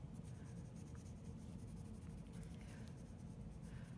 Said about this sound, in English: this is where we can get into a little bit firmer pencil pressure